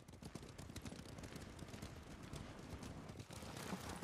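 Steady video game hoofbeats clip-clop throughout, a horse moving at a trot close by, with a dense, even rhythm and no talking.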